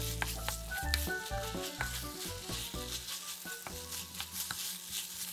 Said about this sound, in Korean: 어묵과 양파를 넣고 볶아주세요.